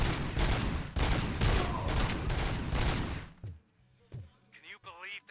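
Rapid volleys of Auto 9 gunfire in RoboCop Rogue City, loud and continuous bursts for about three seconds, then a few isolated shots and clanks as the shooting tapers off.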